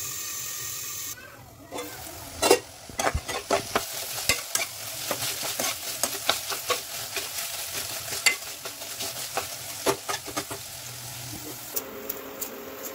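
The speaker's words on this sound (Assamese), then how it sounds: "এইখিনি অকণমান ভিজালৈকে ঢাকন লগাই ভাজি থাকিম" Continuous sizzle of tomatoes frying in a covered pan, with frequent scraping and clattering of a spatula against the pan, close and fairly loud.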